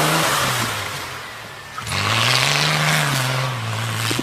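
A front-wheel-drive car engine revs hard and steadily while doing donuts, its pitch rising and holding as the vehicle slides around, loud and close with a brief dip midway.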